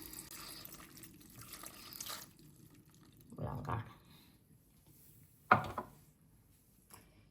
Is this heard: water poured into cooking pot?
yes